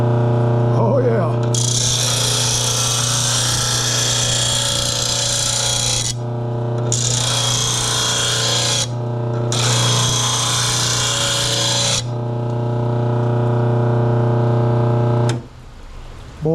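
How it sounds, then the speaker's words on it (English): Wall Enterprises RBG712 blade sharpener grinding in a shop, a loud steady whine broken by short pauses between passes, then winding down at the end. "Boy, that is a nice sharpener."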